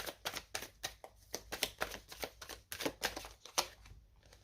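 Tarot cards are handled and laid down one on another, a quick run of crisp papery slaps and flicks close up, irregular and fairly quiet, with no talking.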